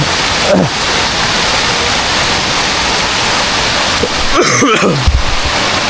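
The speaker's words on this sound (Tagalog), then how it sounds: "Ang lakas ng ulan." Heavy rain pours down steadily during a fishing trip with nets, a dense continuous wash of noise with a few louder splashes and thumps near the end.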